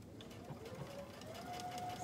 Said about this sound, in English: I'm gonna backstitch. I'm gonna do both lines